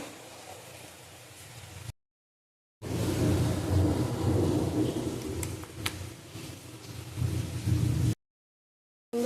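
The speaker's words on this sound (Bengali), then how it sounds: "মেঘ ডাকছে" Thunder rumbling outside a home kitchen during cooking: a low, continuous rolling rumble of moderate loudness, cut by two brief silent dropouts.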